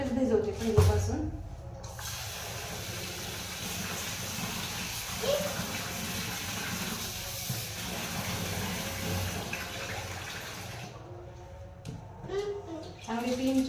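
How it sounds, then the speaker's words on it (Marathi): Rice and dal being rubbed and rinsed together in water for idli batter, a continuous wet sloshing and swishing at close range with a few louder splashes, and a voice speaking over it near the start and end. "चांगले 3-4 पाण्याने स्वच्छ चोळून धुवून घेते आणि नंतर भिजायला घालते."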